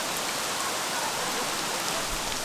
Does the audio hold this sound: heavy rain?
yes